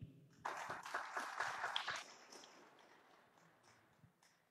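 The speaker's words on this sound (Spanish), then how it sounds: "Le damos ese fuerte aplauso." Audience applause at a regional government event in Arequipa, Peru, a burst of clapping that starts suddenly, holds for about a second and a half, then thins and fades into a quiet room.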